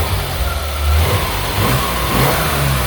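An Opel Lotus Omega sports sedan's engine runs close by, a steady deep rumble with slight rises in revs, loud and alone without talk.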